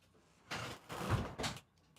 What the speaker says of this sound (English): I hear doors.